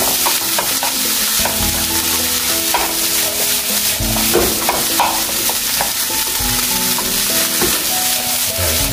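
Korean-style fried rice sizzles loudly in a frying pan while it is stirred, with continuous frying hiss and repeated scraping, clattering strokes of the utensil against the pan.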